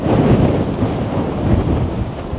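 Loud, blustery wind roaring and buffeting a microphone in Seoul, South Korea, before expected snow, a constant rumbling rush with no voices.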